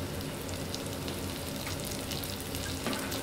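Shallots and basil fry in a pan, making a dense, continuous sizzle at a steady level throughout.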